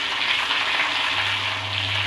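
Cumin seeds, dry chili and green chilies sizzle in hot oil for dal fry, a steady close crackling hiss that holds evenly without a break.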